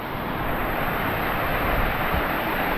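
Water in a jungle stream on its way down to a waterfall rushes steadily and loudly as a broad, continuous roar close by, with no voices.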